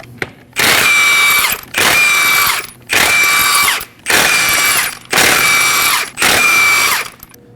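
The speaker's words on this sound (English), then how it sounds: "go ahead and remove the lug nuts." An impact wrench with a 21mm socket spins off lug nuts from the rear wheel of a 2017-2024 Nissan Armada in six loud, whining bursts of about a second each, separated by short pauses.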